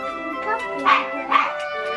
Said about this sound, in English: I'm going to go and check what Lily's barking at.